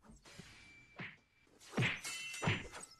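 Movie-style punch sound effects: a few sharp thwacks and thuds, heavier hits around the middle and end, fairly faint and close, with no speech.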